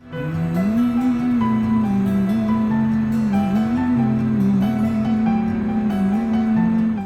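A rich orchestral piece plays at steady volume, a prominent low melodic line weaving beneath layered sustained strings and harmonies.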